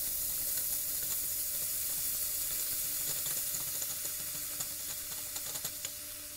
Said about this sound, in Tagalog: At kapag mainit na, pwede nang ilagay ang ating natadtad na karning baka.